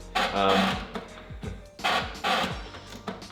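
An HP Smart Tank printer purges its ink lines, making close, loud mechanical bursts in two rhythmic sequences of whirring and clunking.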